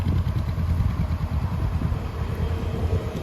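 Motorcycle running steadily through a French A2 licence exam course, a continuous mid-level engine drone with low rumble and slight clatter, fairly close and steady throughout with no talk.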